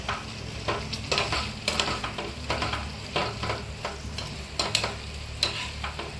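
Prawns sizzle and fry in masala in a pan for a pickle, with steady crackling and repeated scraping stirs of a utensil against the pan, close and moderately quiet.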